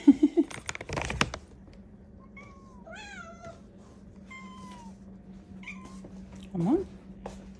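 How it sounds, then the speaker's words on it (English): Hungry cats meow several times before being fed, clear mid-distance cries rising and falling over a steady low hum, with knocks and handling noises at the start and near the end. "I'm gonna start by feeding these cats."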